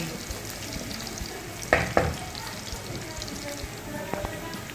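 Onion frying in a pan for Ilocano-style pancit bihon gives a moderate crackling sizzle with a couple of sharp clatters from the pan or utensil midway.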